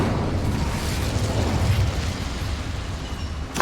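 The Incendio fire spell explodes in the Hogwarts Legacy video game as a loud, dense, rumbling burst that keeps roaring for several seconds, followed by a sharp crack at the end, with no voices.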